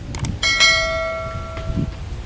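A single bright notification bell sound effect chimes clearly and decays slowly, preceded by a few quick metallic taps, with no talking.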